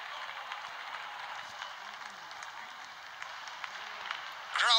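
A stadium crowd at an Australia versus Pakistan T20 cricket match, clapping and cheering in a broad, distant wash that stays steady, then swells louder at the end.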